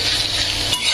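Crushed cardamom and broken cinnamon pieces fry in a hot pan, a continuous bright sizzle without a pause over a short moment.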